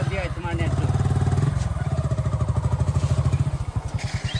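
A motorbike engine runs close by in a fast, steady, pulsing putter that surges briefly as the ride gets under way, with people talking over it.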